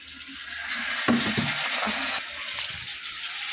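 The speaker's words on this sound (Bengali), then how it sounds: "জল দিয়ে দেবো।" Water poured into a pan of potol chingri curry, a broad splashing sizzle with stirring and clinks of the pan, steady and close throughout.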